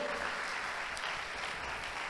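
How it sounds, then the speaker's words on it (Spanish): Church congregation applauding God during a sermon, a steady wash of clapping that holds evenly throughout with no voices on top. "Alguien dele un aplauso a Dios"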